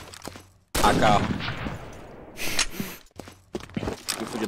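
Burst of automatic gunfire from the Combat Arms online shooter game, a loud sudden volley with rapid cracks that trails off, followed by a few more scattered shots and brief voice sounds.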